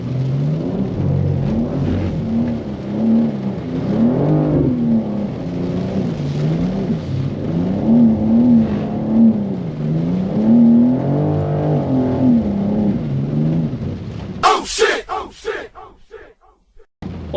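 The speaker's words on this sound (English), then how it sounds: "That wheel spin was going crazy." A 2024 BMW G87 M2 sliding in the rain, its engine droning and rising and falling steadily with wheel spin for about fourteen seconds, loud and close, before breaking into rough choppy bursts near the end.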